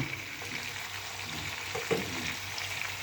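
Chicken adobo sautéing in a pan, a steady, even frying sizzle throughout with a few soft stirring scrapes and no talking.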